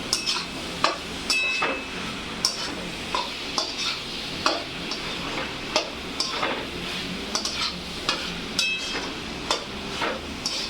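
A spoon stirs macaroni pasta rice in a pan with repeated rhythmic scrapes and clinks against the metal, over a soft sizzle, steady and close.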